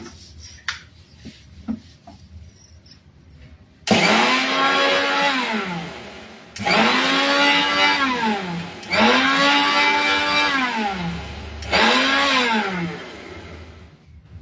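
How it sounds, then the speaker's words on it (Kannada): An electric mixer grinder blends coconut with water to a fine paste, running in four loud, whirring bursts of a few seconds each that spin up and wind down, after a quiet start. "ಆದಷ್ಟು ನುಣ್ಣಗೆ ರುಬ್ಕೋಬೇಕು ನೀರನ್ನು ಹಾಕಿ. ಮಿಕ್ಸಿಯಲ್ಲಿ ರುಬ್ಬೋದು."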